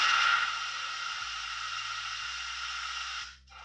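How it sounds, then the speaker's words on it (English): FLEX pager signals received by a HackRF One software-defined radio come through as a steady buzzing digital tone with hiss, holding for about three seconds before cutting off. "that is the sound of flex signals"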